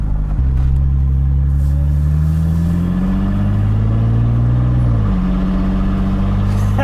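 A Ford Mustang's engine rumbles loud and close while the car rolls slowly down a driveway, with a low steady drone whose pitch rises and then drops as the revs change.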